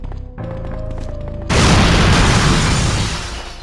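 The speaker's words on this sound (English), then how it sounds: "Next, you got a generic grenade." A generic hand grenade goes off in the 1999 survival horror game Resident Evil 3: Nemesis, a loud, close boom that cuts in abruptly after a quiet musical stretch and rumbles on for over a second.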